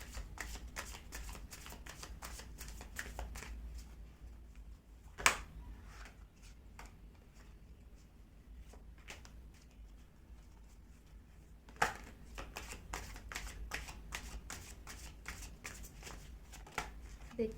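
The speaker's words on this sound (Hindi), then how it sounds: "अब मैं पहले कार्ड्स को अच्छे से सेट कर दूँ" Tarot cards being shuffled in quick rhythmic riffles and soft flutters, quiet and close, with a couple of sharper snaps where the deck is squared and faint talk at times.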